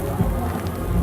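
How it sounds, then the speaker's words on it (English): Steady heavy rain hiss during a thunderstorm fills the background at an outdoor event, broadband and continuous, with a low rumble and faint voices or music underneath. "and it's really raining out."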